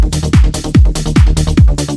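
A hard house/trance 1/16 rolling bass line variation programmed in a piano roll, loud pumping kicks with pitch-dropping thumps and rolling offbeat bass notes between them, looping steadily.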